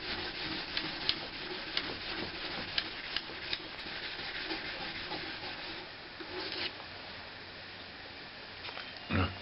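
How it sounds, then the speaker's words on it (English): Fine 3000-grit wet and dry sandpaper rubbing over the wooden body of a bandurria under repair, a steady soft scratchy swish with light rhythmic strokes throughout and a slight bump near the end. "Now we're gonna sand it with 3000 wet"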